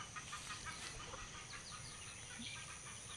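Chickens cluck and murmur in a farmyard with steady background noise, with no clear rooster crow standing out.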